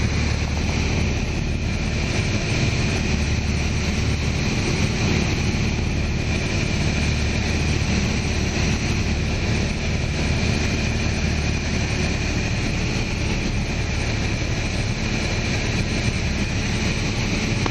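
Inside a small training airplane, a loud, steady engine drone and wind rush fill the cabin throughout, unbroken and close, with no talking.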